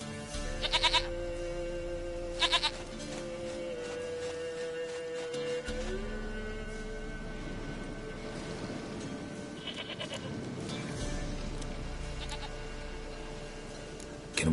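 Goat bleats in The Witcher 3 game, several short nasal calls near the start and again around mid-clip, set over a steady ambient game background with no talking.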